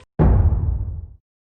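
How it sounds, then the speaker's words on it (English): A single deep, muffled low-pass filtered stomp drum sample thumps once and rumbles away over about a second, dull and bass-heavy, for a melodic deep house track. "Make a low-pass stomp."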